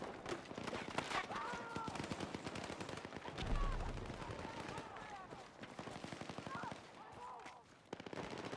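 Gunfire in Battlefield 6 while a sniper rifle is in use, with quick repeated shots and cracks running fairly quietly beneath a voice talking throughout.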